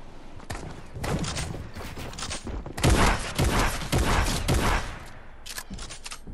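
Video game gunfire during a solo squad battle match, dense overlapping bursts and rapid shots crackling continuously for several seconds, loud and close, with heavier volleys in the middle and no talk over it.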